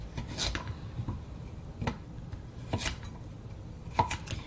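A knife cuts vegetables, including a big carrot, on a cutting board in a home kitchen, with a handful of sharp, separate chops spaced irregularly over a quiet background.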